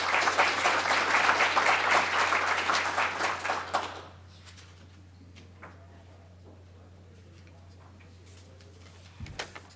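An audience welcoming Mayor Paul Soglin with loud applause that fades out after about four seconds, leaving a quiet room with a steady low hum and scattered small knocks.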